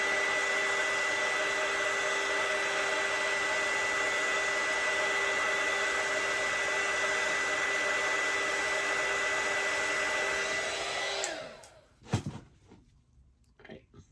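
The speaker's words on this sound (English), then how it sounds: "So you can see the heat gun makes it, you know, mix together very well." A heat gun blows a steady, loud, whining hiss of hot air over an epoxy-coated tumbler for about eleven seconds, then cuts off, leaving a few faint knocks and handling sounds.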